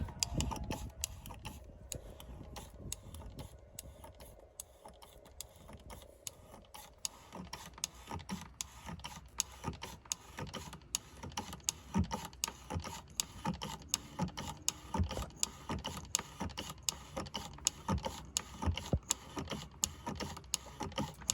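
A hand pump fills the transfer case of a 2015-2020 Chevy Tahoe 5.3L with fluid, making quiet, rapid mechanical clicks and ratcheting ticks that repeat steadily throughout, close by with no talk.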